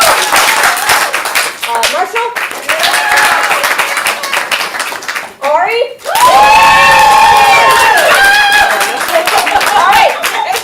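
A loud live audience at a CSz Portland improv comedy show bursts into sustained clapping and cheering for the players, with shouts and brief spoken names cutting through the roar.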